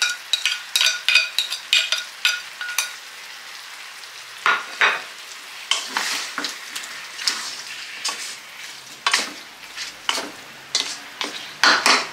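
Sautéed garlic and ginger fry in a pan with a loud, close sizzle, punctuated by repeated scraping strokes of a utensil stirring them, and no talking.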